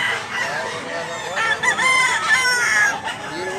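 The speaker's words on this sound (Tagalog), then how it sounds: "Daming manok dito mga idol." Roosters crow loudly and close by, overlapping one another, while hens cluck steadily in the background of a busy chicken yard in Mantalungon, Cebu.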